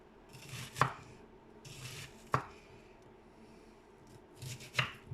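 Three sharp knife strokes on a cutting board, spaced apart and fairly close, as vegetables are chopped for fajitas in a home kitchen; no talking, just quiet room noise between the cuts.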